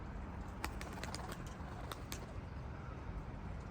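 Tumbler pigeons coo softly outdoors against steady background noise, with a few faint, brief higher calls scattered through.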